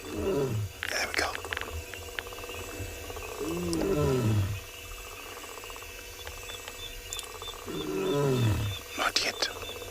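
A female lion roars on an afternoon safari drive in South Africa, three long, loud groaning roars spaced a few seconds apart with quieter grunting between, set against steady bush noise and faint vehicle hum, with soft talk in the background.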